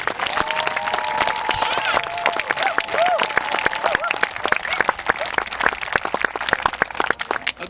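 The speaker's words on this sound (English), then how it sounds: "Let's give them a round of applause." A crowd at a construction groundbreaking ceremony gives a sustained round of applause, dense clapping with a few whoops and voices mixed in, steady and fairly loud throughout.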